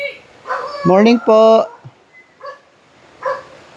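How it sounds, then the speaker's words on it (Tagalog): A dog barks in a quick run of sharp, fairly close barks along a walking path in Pugo, while people exchange greetings and talk around it. "May aso na naman."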